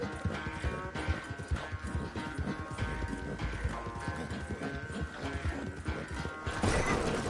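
In Red Dead Redemption 2, a horse fails a jump and goes down: a flurry of hoof clatter and heavy thuds, with a crashing tumble and a faint whinny, continuous and fairly close.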